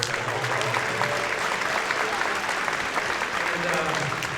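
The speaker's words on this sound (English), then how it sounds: "So I'd like a round of applause for all the parents." Dense, sustained applause from an audience in a school gym at a high school pops concert, many hands clapping steadily throughout with crowd noise mixed in.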